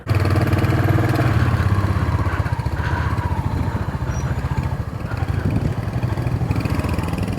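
Parked motorcycles at a hotel in Narkanda, Himachal, idle with a steady low engine rumble and light mechanical clatter, loud and close throughout without speech.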